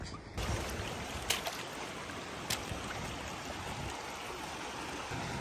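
A mountain stream at a hiking-trail water crossing on the Ice Lakes trail near Silverton in Colorado's San Juan Mountains, rushing steadily and fairly faintly as a continuous broadband wash, with a couple of brief knocks.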